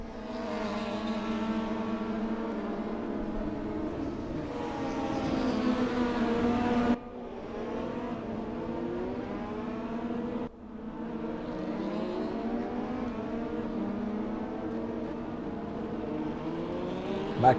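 DTM race cars at the Hockenheimring, engines droning loud and continuous with pitch climbing and falling through gear changes, a brief dip partway through before the roar resumes.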